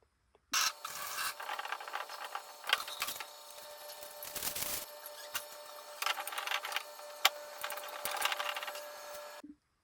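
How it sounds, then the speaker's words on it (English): Plastic wrap is peeled off a 5-micron water filter and the filter is fitted into its filtration housing, producing nearby crinkling, rubbing and scraping with a few sharp clicks and no speech. "you're just going to have to pop off all the plastic and then put it into your filtration housing"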